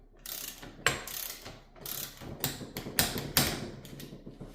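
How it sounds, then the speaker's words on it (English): A torque wrench set to 20 tightens the pivot bolts on a Polygon Collosus bicycle, with short, close ratcheting bursts and sharp clicks in an uneven rhythm. "we got the torque wrench out and we're set to 20. So go ahead and torque up all the spots"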